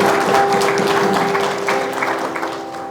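Steady applause and light cheering from an audience in an assembly hall at a foundation's general meeting, a dense continuous clapping that fades slightly toward the end.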